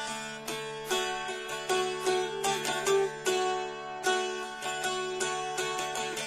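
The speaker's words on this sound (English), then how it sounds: "today's instrument is this Folkcraft mountain dulcimer" A Folkcraft mountain dulcimer, an Appalachian dulcimer, is played alone and close, with bright plucked strummed notes ringing over a steady drone in a lilting melodic rhythm.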